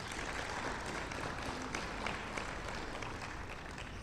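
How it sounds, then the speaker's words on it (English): A conference audience claps for the hackathon organizers, producing faint, continuous applause with a distant, hall-like quality and no pauses. "I would like also to give an applause separately for this hackathon organizers."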